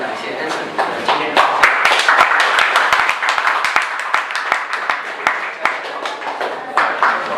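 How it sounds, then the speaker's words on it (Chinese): Warm applause from an audience thanking a startup speaker at a Startup Grind event in Guangzhou, with sharp individual claps standing out over a dense wash of clapping for several seconds, with voices mixed in. "让我们再次以热烈的掌声感谢 Anson 今天"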